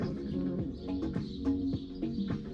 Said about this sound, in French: comme tous les matins, j'ai les oiseaux avec moi